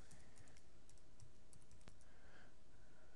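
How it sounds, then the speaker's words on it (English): Fingers type a search on a computer keyboard, a quiet, quick run of soft key clicks in an otherwise hushed room. "I am going to type in Alexander McQueen again."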